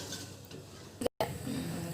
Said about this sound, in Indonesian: Santan dididihkan dengan agar-agar, jadi diaduk